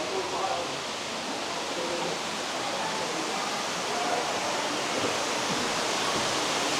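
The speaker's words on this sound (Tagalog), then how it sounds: "Golden waterfall." Water pouring down a golden-lit waterfall inside Gwangmyeong cave near Seoul, a steady, full rushing roar that fills the space evenly throughout, with faint voices barely under it.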